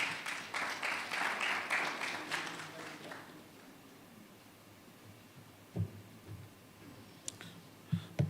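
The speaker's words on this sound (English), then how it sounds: "Please, Tony, with a round of applause" Applause from the audience at the Ghana Institute of Architects annual general meeting rises for about three seconds, then fades into a quiet hall broken by a few scattered clicks and taps.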